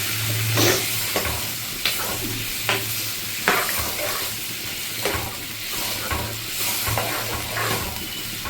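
Soya chunks fry in a pan after a cup of water is added, giving a continuous hissing sizzle broken by repeated scraping stirs of a utensil every second or so, with no talking.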